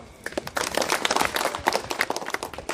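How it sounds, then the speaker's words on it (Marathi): A crowd at a school gathering claps in a dense, steady burst of applause lasting a few seconds, loud and close with no talk over it. "आधी त्याच्यासाठी टाळ्या वाजवा"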